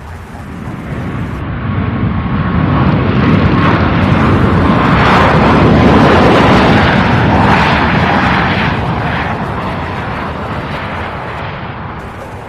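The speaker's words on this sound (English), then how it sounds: "The Southwest flight arriving from Midway in Chicago." A Southwest airliner arriving at Louisville airport roars past, its engine noise swelling loudly to a peak mid-pass and then fading away, a broad rushing rumble with no voices.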